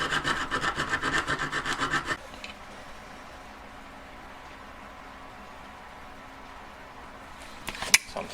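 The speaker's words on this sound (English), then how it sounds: "I'm actually filing the fingers thinner from underneath to give me that kind of ridge" A hand file rasps in quick rhythmic strokes on the fingers of a silver hand for about two seconds, then stops, leaving quiet room tone and a sharp click near the end.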